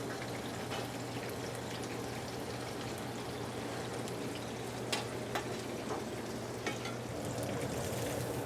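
Soft shell crab fries in a pan for a sandwich, giving a steady close sizzle with a few small pops and no voices.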